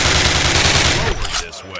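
Thompson submachine gun in the 2003 Call of Duty firing a rapid, loud, evenly spaced burst of shots close by, then cutting off and leaving a short echoing tail.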